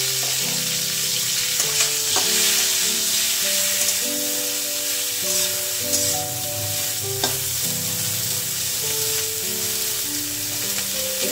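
Cauliflower frying in a pan with beans and capsicum, a constant loud sizzle broken by scraping stirs and occasional clinks of the utensil against the pan, close up and without speech.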